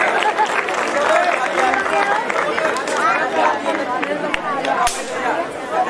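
Audience applause at a Ramlila performance in Azadpur, scattered clapping woven into heavy crowd chatter and voices, steady and fairly loud throughout.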